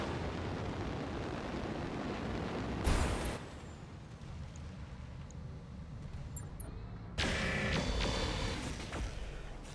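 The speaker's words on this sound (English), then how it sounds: "Ammo explosion, even better." An ammo explosion in the mech combat game Roguetech, a BattleTech mod, bursts out loud against a continuous rumbling battle din, with two sharp blasts, one brief and one longer and rolling, and no talk.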